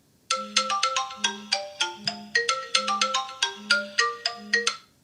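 A MASX Aurora One smartwatch's find-phone feature sets a phone ringing with a bright, repeating electronic melody, loud and steady in rhythmic bursts with no talk over it.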